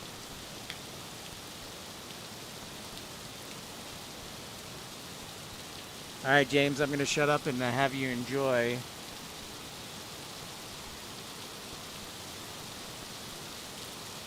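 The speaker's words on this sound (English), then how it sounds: "Rain's really starting to come down here." Steady rain falls at Grand Rapids Gerald R. Ford International Airport, a constant hiss of drops on surfaces throughout, with someone speaking briefly partway through.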